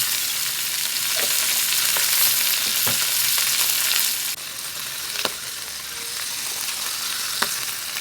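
Noodles with pork and seasoning stir-fried in a pan, a steady loud sizzle with scattered scrapes and clinks of a utensil against the pan throughout, no talking.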